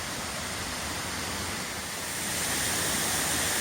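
Waterfall in Wales pouring into a pool over sandstone and mudstone, a constant broadband rushing roar that grows a little louder toward the end, with no voices.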